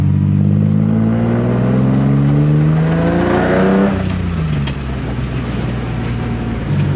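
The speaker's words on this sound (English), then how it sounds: "It is open header, so it's very loud, but she's running good now." A BMW E30 with a swapped S54 engine and open header revs hard and loud, its rising harmonic sweep climbing then settling back into a rough, throaty idle close to the listener.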